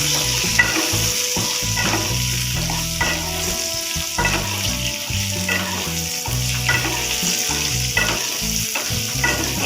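Sliced okra fries in a pan for a dahi bhindi dish, a dense steady sizzle with crackling pops and occasional stirring scrapes, close and continuous without talk.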